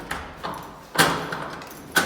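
A door of a newly rented flat in Spain being opened, with three separate knocks and thuds of the handle and latch, the last two sharper and louder, close by in a quiet room.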